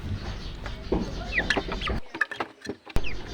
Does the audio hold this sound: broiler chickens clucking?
yes